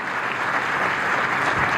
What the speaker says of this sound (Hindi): उनके लिए एक बार मैं चाहूँगा जोरदार ताली बजाएं सब लोग